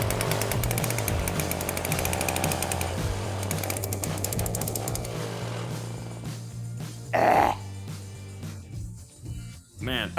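An old Soviet chainsaw running on nitro fuel rattles and hammers loudly and continuously, a rough, chattering engine close by, then a voice shouts briefly and the engine fades into short bursts and exclamations.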